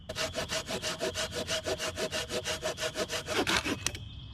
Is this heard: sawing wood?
yes